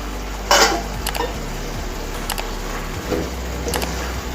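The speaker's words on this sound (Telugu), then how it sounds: "సరే, మూత తీసి చూసుకుందామండి." A metal lid is lifted off a pot of mung bean sprout curry on the stove, giving one sharp clatter near the start, then a few light metallic clinks spread through an otherwise quiet kitchen.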